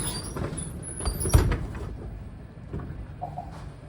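A shop door swings shut, triggering a door sensor: a scraping slide and a solid clunk near the middle, then a short electronic tone from the sensor as the room settles.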